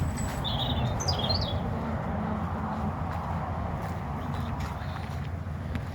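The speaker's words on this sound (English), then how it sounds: "That was a bird." A few quick bird chirps come early on near farm fields, faint over steady outdoor rumble and wind noise.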